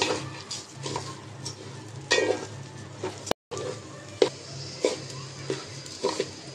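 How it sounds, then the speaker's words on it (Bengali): Rice fried with salt in a pan is stirred, giving quiet intermittent scraping clinks of a spoon against metal over a low sizzle. "চালটা একটু এখন ভেজে নেব।"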